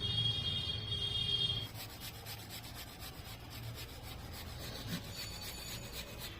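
Dough for Bengali peyaj puli pithe is kneaded firmly by hand, giving soft, close rubbing and pressing sounds that carry on steadily and alone.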